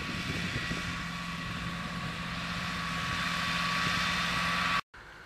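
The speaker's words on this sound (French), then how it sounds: "Un tracteur qui est venu." A tractor engine runs at a steady, continuous drone with a constant low hum, fairly close and unbroken until a brief cut near the end, at a field being mowed.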